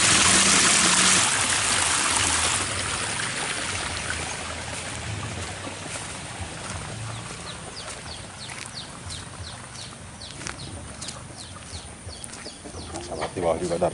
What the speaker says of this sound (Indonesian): Air mengalir sahabat ya.